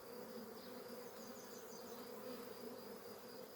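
Honeybees buzz steadily around the hive in a dense, continuous drone, close and unbroken, with no talking.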